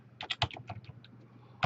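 Quick typing on a computer keyboard, about a dozen close, crisp key clicks in an uneven burst, faint and alone with no voices.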